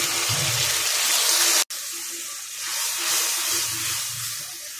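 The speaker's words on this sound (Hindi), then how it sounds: "इस टाइम पर इसके अंदर दूध डाल दीजिए" Milk poured into a pot of roasted dry fruits and rice for sweet zarda, a steady hissing, splashing pour that stops abruptly, then resumes as a softer sizzling wash, close up with no talk.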